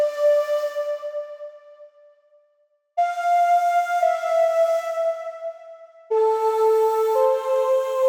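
A soft, breathy flute plays three sustained notes in turn, each one swelling and slowly fading, with a brief silence before the second.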